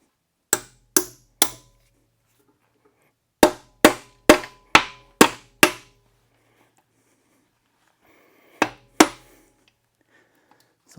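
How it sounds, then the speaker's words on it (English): Sharp metallic hammer taps strike scrap engine parts from a 440 engine, in three groups of rapid blows separated by pauses, close and ringing with quick decay and no talk. "get my hammer and tap at these things."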